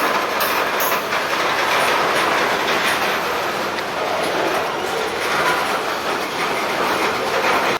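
A long Maryland Midland freight train rolls steadily past close by, a continuous loud rumble of wheels and clacking rail joints with faint squeals, in wildfire smoke.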